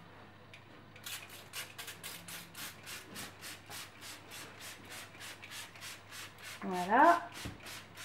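A sink being scrubbed after spraying with a homemade natural cleaner gives steady, rhythmic rubbing strokes, about two per second, close up and fairly loud, with one brief word spoken near the end.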